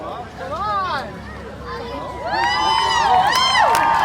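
A crowd cheers and shouts at a Tuff Trucks event in Mandan, North Dakota, with a wavering shriek of cheers rising louder and more sustained in the second half, over a steady din of chatter.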